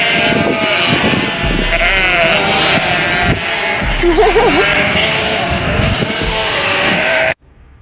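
Sheep bleating, a wavering call that rises and falls in the middle of the stretch, heard over a steady, busy background of other sound.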